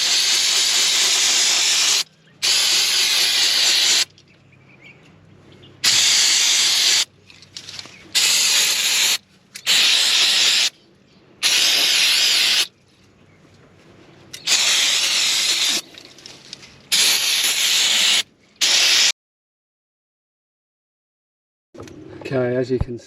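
Brake cleaner sprayed in repeated hissing bursts onto caravan drum brakes, each blast a loud, close spray lasting one to two seconds with short pauses between, ending in silence.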